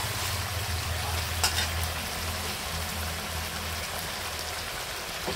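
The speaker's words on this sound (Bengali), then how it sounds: "এখন আমি দিয়ে দেবো জল।" Water poured into a sizzling Bengali-style mutton curry makes a loud, steady crackling hiss with faint splashing, continuous and close.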